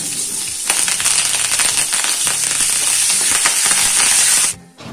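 Green chillies and curry leaves sizzle and crackle loudly in hot oil with browned peanuts for sevai upma, a dense continuous spatter with sharp pops, stopping abruptly near the end.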